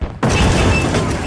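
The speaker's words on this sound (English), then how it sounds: "And explosion." An explosion in the stealth video game Hitman arrives as a sudden loud boom after a brief quiet moment, then rolls on as a dense, sustained rumble and crash until the end.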